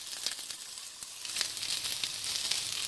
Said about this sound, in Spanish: vamos a seguir saltando